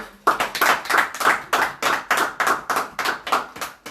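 Steady rhythmic clapping rises from a church congregation, about two claps a second, loud and close, sustained for several seconds with no talking.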